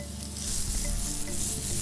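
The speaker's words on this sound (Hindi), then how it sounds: "इसमें हम डालेंगे चॉप्ड अनियंस" Chopped onions tipped into a hot garlic tempering, sizzling and frying steadily in the pan with stirring, a continuous close sizzle without voices.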